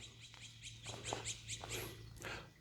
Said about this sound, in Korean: 지금 새들이 춤을 추고 노래를 불러주고 있습니다